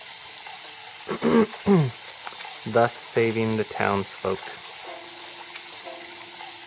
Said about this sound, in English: Then I'm going to fill up the reservoir with water and put out these last 2 fires.